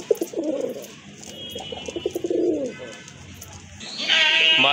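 Domestic deshi pigeons, including white ones kept for sale, coo in several close, repeated rounded calls over a low background hum, with a brighter rustle or flutter near the end.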